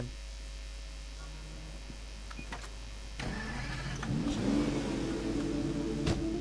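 A car in the open-world game Sleeping Dogs idles with a low steady hum, then its engine rises and revs up midway through, a mid-pitched drone that swells toward the end.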